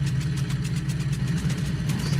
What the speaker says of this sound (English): let's prime this thing 3 times, see if that center engine will fire up